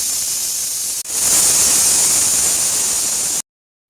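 A pressure cooker holding tomato bath releases a loud, steady, high hissing whistle. It breaks for an instant near the start, then runs on evenly for a few seconds before cutting off abruptly into silence.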